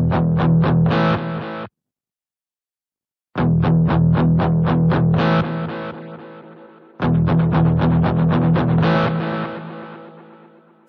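Guitar played through a Boss GT-1000 showing its delay modes: three loud distorted strummed bursts separated by a silent gap, each ringing into repeating echoes that trail off gradually, with no talking.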